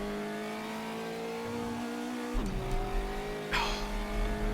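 Engine of a Brazilian touring car in a racing sim, droning steadily under braking, then a sharp throttle blip and rising rev burst near the end, loud and close.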